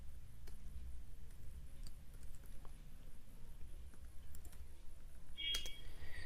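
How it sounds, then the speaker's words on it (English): Light clicking of keys on a computer keyboard, sparse and fairly quiet, tapping in short irregular bursts over a low steady background hum. "So let's type in path"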